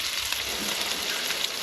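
Scallops frying in a hot pan give off a steady, loud, even sizzle with no pauses and no talking.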